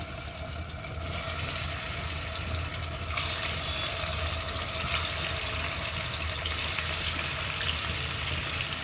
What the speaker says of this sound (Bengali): এখন আমি কই মাছটা দিব তেল গরম হয়ে এসেছে